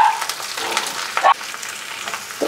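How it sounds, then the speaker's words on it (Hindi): Potatoes and cauliflower fry on a medium flame, giving a steady close sizzle with occasional stirring scrapes. "आलू डालने के बाद हम 3 से 4 मिनट मीडियम फ्लेम में फिर से फ्राई करेंगे"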